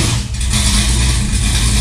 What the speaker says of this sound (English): you actually have to start this car. And there's a process because it's carbureted.